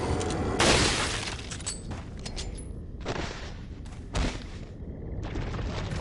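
Repeated explosions in the video game Resident Evil 4 erupt one after another, several loud booming, shattering blasts spaced about a second apart, each followed by a brief rumbling decay.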